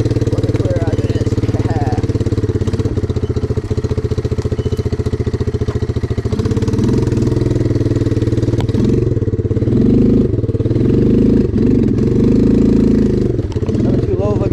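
A 1985 Suzuki Quadrunner ATV engine running while riding through water, a loud, continuous mid-pitched drone that rises and falls slightly, with splashing and churning water noise over it, close to the rider.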